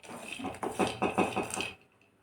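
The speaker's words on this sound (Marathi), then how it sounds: "पिस्ता छान कमी गॅसवर मी भाजून घेत आहे" Pistachios roast in a pan over a low flame, stirred for a couple of seconds so that quick rattling clinks and scrapes rise, then stop abruptly.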